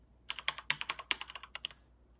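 A short burst of typing on a computer keyboard: about fifteen crisp, close key clicks in a quick uneven rhythm, then silence, with no voice over it.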